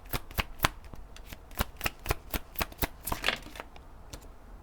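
A deck of oracle cards is shuffled by hand, producing a quick run of crisp riffling slaps and flicks at a steady rhythm, close and fairly soft.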